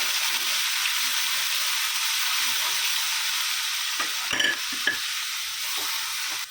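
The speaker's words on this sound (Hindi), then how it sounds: "अदरक लहसुन का कच्चापन जाने तक इसको अच्छे से भूनेंगे" Steady frying sizzle of ginger-garlic paste in a pan for biryani, with a few scraping stirs near the end and no talking.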